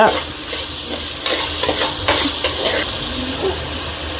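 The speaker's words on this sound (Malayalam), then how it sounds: "ഇനി നന്നായിട്ട് കുറച്ച് നന്നായിട്ട് വഴറ്റണ്ട" Salted vegetables are sautéed in a pan, giving a loud, close, continuous sizzle with a hiss of steam and a run of rhythmic spatula scrapes and taps.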